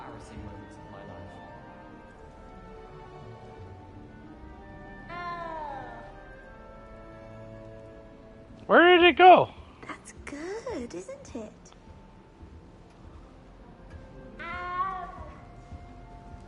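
Meows from a cat in Hogwarts Legacy come in a few separate bursts, one of them loud and wavering, while a person talks between the calls.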